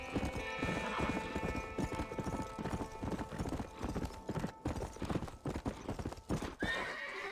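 A horse galloping in the video game Red Dead Redemption Undead Nightmare: rapid, loud hoofbeats pound continuously, a neigh rises near the start, and the hooves keep thudding with a brief lull near the end.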